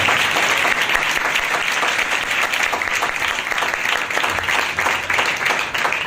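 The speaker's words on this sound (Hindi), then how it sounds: "खुदावन के जलाल के लिए जोरदार तालियां चाहिए।" Loud, sustained applause from a church congregation at a Hindi-language Sunday service, steady dense clapping filling the whole stretch with no talk over it.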